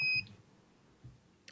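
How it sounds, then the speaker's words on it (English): A drone detector device sounds a short, loud electronic beep at the very start, followed by quiet background and a brief low thump, with no talking. "All right, there's a beep."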